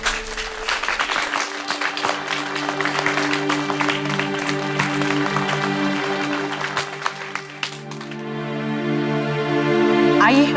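Audience applause welcoming chief guest Shri Trilok Chand Sharma at an evening prize ceremony, steady clapping over sustained background music, swelling louder toward the end.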